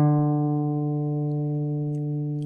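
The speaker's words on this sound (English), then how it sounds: "This is an open strum or open pluck." Single open strum on a mountain dulcimer, a steady sustained chord of rich harmonics ringing evenly and slowly fading over a couple of seconds, heard alone.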